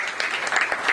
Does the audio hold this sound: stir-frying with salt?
no